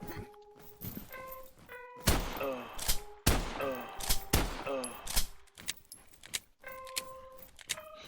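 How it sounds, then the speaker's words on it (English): A shotgun in a video game fires several sharp booming blasts in quick succession, each trailing into a ringing tail, interspersed with metallic clacks of reloading and short electronic chimes. "And now we can switch back to my personal favorite weapon, the shotgun."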